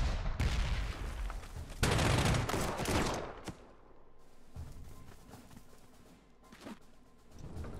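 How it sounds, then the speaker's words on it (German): Flak guns firing in the Panzer Corps 2 wartime strategy game, bursts of booming anti-aircraft fire in the opening seconds, then a quieter rumbling stretch with another short burst near the end. "Dort greift er mit seiner Flak an."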